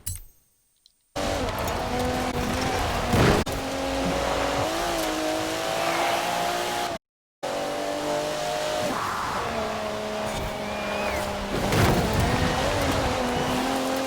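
An Alfa Romeo 155 Q4 racing in Forza Horizon 4, its engine droning steadily with rising and falling revs through gear changes, a short dropout midway, and occasional tire noise.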